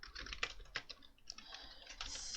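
Rapid, uneven keystrokes on a computer keyboard, close and clicky, bunched into quick runs with a short pause midway.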